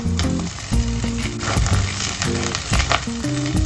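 Diced shiitake mushrooms frying in the rendered fat of Chinese sausage, a loud close sizzle with clattering bursts of stirring throughout.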